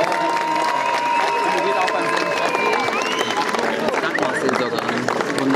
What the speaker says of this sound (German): mal einen riesen Applaus für unsere jungen Damen